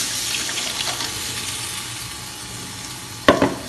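Ground goat blood poured into a pan of frying onions and green chillies, giving a steady soft sizzle and hiss with a sharp splash near the end.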